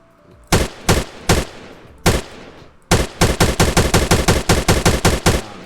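Gunfire in a Roblox game aimed at an airdrop: a few separate sharp shots, then a rapid burst of about fifteen evenly spaced loud cracks with nobody talking.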